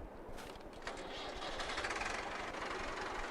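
Tractor engine in Farming Simulator 22, a steady low rumbling drone with rhythmic knocking pulses that grows slightly louder and then holds, heard close and alone.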